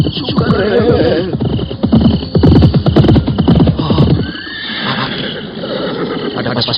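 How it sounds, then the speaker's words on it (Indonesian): Several horses of mounted cavalry troops neighing and whinnying loudly with faint hoof clip-clop, a busy close group of animals calling over one another throughout. "Ada pasukan berkuda datang kemari."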